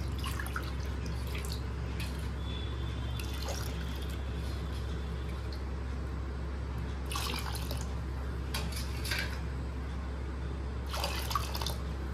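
Water poured into a pot for boiling mango to make jelly, a steady low pouring and running-water wash under a constant background hum, with intermittent splashy trickles and drips standing out now and then.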